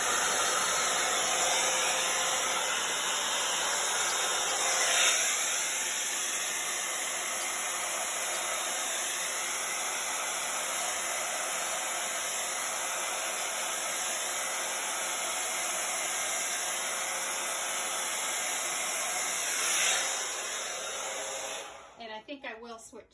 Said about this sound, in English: So I'm going to start with my smaller blow dryer here